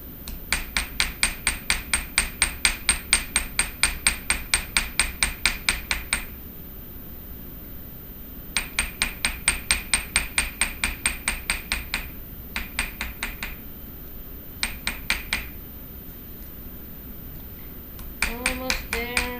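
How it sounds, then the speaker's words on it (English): Copper sheet being fold formed for jewelry leaves is struck with a hammer in fast, steady runs of sharp metallic taps, broken by short pauses, close and loud. "So you hammer it while moving your metal around"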